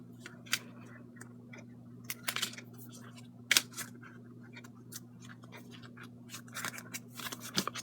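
Scissors snip paper for a handmade flip book, a scattering of quiet crisp cuts and clicks at irregular intervals over a low steady hum, close by and faint.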